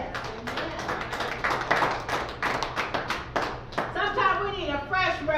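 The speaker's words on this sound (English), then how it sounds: "Come on, somebody, and clap your hands." A church congregation clapping in a steady rhythm during a sermon, many hands together and fairly close, with a preacher's voice and worshippers speaking over the claps.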